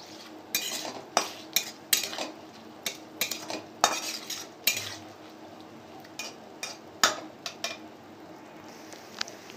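Onions frying in a pan with bay leaf, cloves and cinnamon, a metal spoon stirring and scraping in a run of sharp clinks over a soft, steady sizzle, close up and with no talk.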